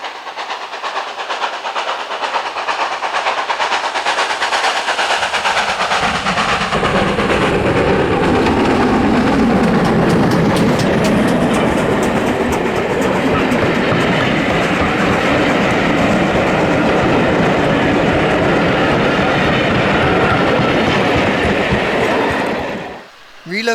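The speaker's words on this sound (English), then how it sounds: "Climbing the gradient to pass through 15 Mile Cutton, 7827 Lydham Manor makes its way to Bishop's Lydeard" GWR Manor class steam locomotive 7827 Lydham Manor hauls a passenger train up the gradient through a cutting on the West Somerset Railway, rising from faint to a loud sustained roar of exhaust and rolling coaches passing close, then fading abruptly.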